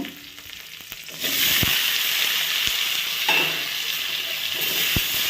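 Garlic and tomato sauté in a pan for an Andhra-style red chutney, giving a moderate steady sizzle with a few sharp utensil knocks against the pan, close up and without talking.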